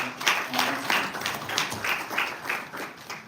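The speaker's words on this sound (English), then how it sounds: "Please, another round of applause for our experts." Audience at a civil society stakeholder engagement forum applauding its expert panel: a steady wash of many hands clapping at moderate distance, with a few brief voices mixed in.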